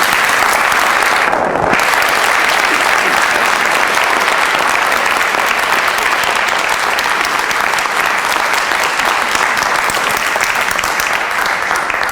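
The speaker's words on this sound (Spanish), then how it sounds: "un aplauso así por educación y preguntas" Sustained audience applause after a talk, a dense, loud, even roar of many clapping hands filling the room for the whole stretch without a break.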